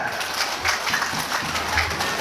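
An audience applauding at an Islamic boarding school demonstration, a brief, moderately loud wash of clapping hands from a crowd.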